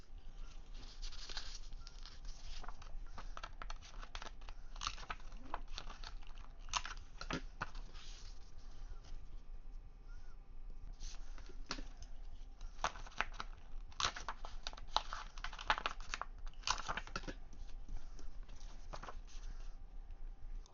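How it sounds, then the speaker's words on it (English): An old Martha Stewart corner punch rounds the corners of scrapbook paper, making a series of crisp, crunchy clicks and snaps in irregular bursts amid faint paper handling, close and fairly quiet. "I use this old Martha Stewart corner punch."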